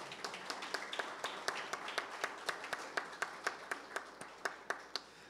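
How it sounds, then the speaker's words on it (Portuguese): A church congregation claps to welcome a first-time visitor, a steady run of close rhythmic claps over a soft wash of scattered applause, with no talking. "Vamos dar uma salva de palmas?"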